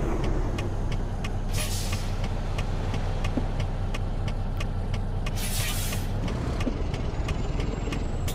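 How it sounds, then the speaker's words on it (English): Truck air brakes in American Truck Simulator, two loud hissing bursts of released air over a steady low engine drone, with regular ticking in the background. "Hitting the brakes like an idiot."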